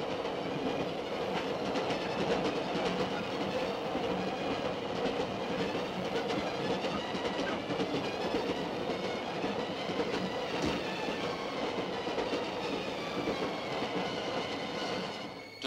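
The Scotsman steam train runs at over sixty miles an hour, a sustained loud rumble of rolling carriages with rhythmic wheel clatter and occasional squeals, heard steadily throughout without voices.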